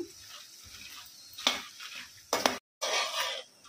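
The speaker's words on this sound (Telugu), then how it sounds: "ఇప్పుడు ఎండుమిరపకాయలు వేసుకుని వేయించుకోవాలి" Dried red chillies fry in hot oil in a pan over low heat, with a soft hiss and sharp clinks and scrapes of stirring in several close bursts, then a brief gap.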